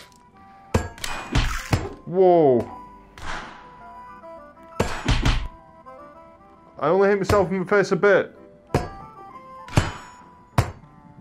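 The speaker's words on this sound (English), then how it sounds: "What is that banging?" Knocking and banging inside the video game The American Dream, a few sharp thuds scattered between bursts of talk and game voices.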